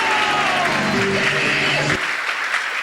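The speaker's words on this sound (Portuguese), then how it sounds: "Agora você pode aplaudir o Senhor, querido." A church congregation at a faith-healing service breaks into loud, steady applause, with a sustained tone and voices audible beneath the clapping in the first part before it thins into scattered claps.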